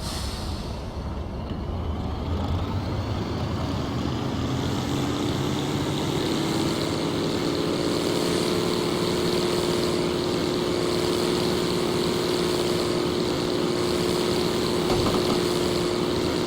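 A train engine in Train Simulator 2016 on a forest railway drones steadily and loudly throughout, a continuous motor rumble with a tone that rises gradually, and no talking.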